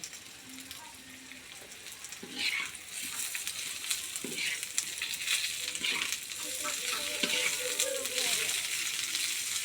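Banana slices fry in hot oil, a steady crackling sizzle with a few clinks and stirring scrapes, heard close throughout.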